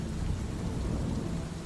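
Steady rain with a low thunder rumble, a tabletop role-playing session's storm effect, a dense continuous wash at even loudness throughout with no voices.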